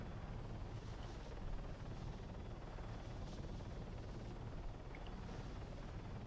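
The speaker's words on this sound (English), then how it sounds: "Yeah, this helicopter is certainly fun to fly." An MH-9 Hummingbird helicopter flying in the video game ArmA 3 gives a steady, fairly faint rotor and engine drone with a broad rumbling wash that holds constant throughout, with no talking.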